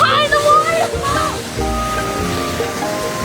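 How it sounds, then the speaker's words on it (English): A waterfall in Iceland roars steadily from behind the falling curtain of water, a dense continuous rush under children's and adults' voices at the start. "We're behind the waterfall!"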